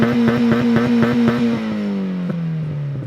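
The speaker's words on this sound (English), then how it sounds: "Let's go ahead and hear that exhaust note." A Mazda Miata two-seat sports car's exhaust note under acceleration, loud and close, a steady buzzing drone with rhythmic pulses that then drops in pitch as the revs fall away.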